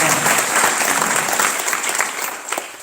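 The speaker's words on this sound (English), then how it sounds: "I want you to give a round of applause for them" Loud, dense audience applause for comedians at a cancer fundraising gala, a close crowd clapping steadily throughout, tapering slightly toward the end.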